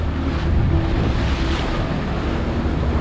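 Rough sea waves churn and slosh in a harbour while strong wind buffets the microphone, a loud, continuous roar with no voices.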